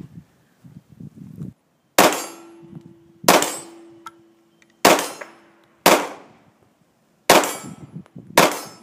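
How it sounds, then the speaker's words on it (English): Six sharp shots from a 9mm Glock pistol with a compensator, fired one at a time at uneven intervals, each a loud crack with a short decaying tail and quiet gaps between. "So now we have basically that same version of gun from Glock, except this is in a 9mm, but it also has the compensator venting up here."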